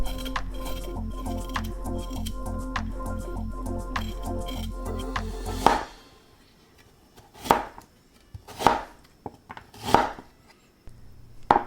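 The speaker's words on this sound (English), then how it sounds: "This should be followed by slicing the ginger." A knife slices ginger on a cutting board, first in a quick, even run of close chops, then a few slower, separate cuts after a brief pause.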